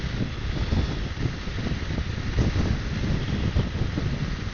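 Steady wind buffeting the microphone while riding a 125cc Orcal Astor scooter uphill into a headwind, a loud continuous low rumble with gusty surges throughout, no talking.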